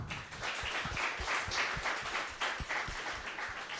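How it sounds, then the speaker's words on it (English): Steady applause from an awards-ceremony audience, a dense run of clapping held at an even level for a few seconds with no voices over it. "I'd clap harder if I were you"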